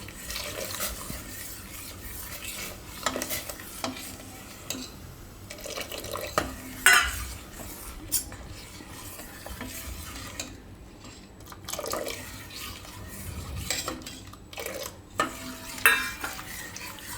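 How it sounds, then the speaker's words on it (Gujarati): Hot milk is stirred in a pot on the stove while vinegar water is poured in, giving soft, irregular spoon clinks and scrapes with faint liquid sounds, close and quiet. "હવે આપણે એમાં નાખી દઉં આ વિનેગરવાળું પાણી. નાખતા જાઉં, મિક્સ કરતા જાઉં"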